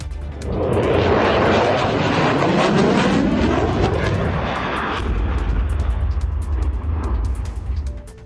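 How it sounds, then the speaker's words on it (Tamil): An F-16 fighter jet flying during an air show rehearsal in Poland, a loud, sustained roaring rush that sweeps past and stays strong throughout, with no talking over it. "அதற்கான ஒத்திகையில் F-16 வகை விமானம் ஒன்று ஈடுபட்டிருந்தது."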